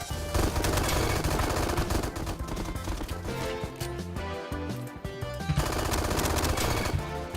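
Rapid automatic gunfire rattles almost nonstop in the Roblox shooter Bad Business, dense and loud under a busy layer of game sound.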